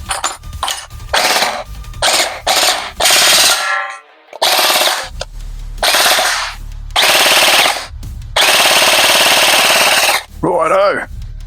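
A Jin Ming J10 gel ball blaster fires loud, close full-auto bursts through a chronograph, several rapid rattling strings separated by short pauses, with a brief voice in between.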